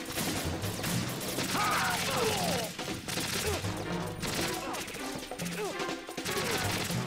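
Dense, continuous shotgun fire and explosive blasts in Metal Gear Solid 2, loud overlapping shots filling the whole stretch with chaotic mechanical clatter and no clear pauses.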